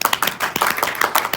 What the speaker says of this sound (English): By a round of applause, did you love it or like it?